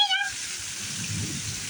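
Heavy rain pours during a thunderstorm as a steady, dense hiss, with a brief high whining tone at the very start and a low rumble underneath.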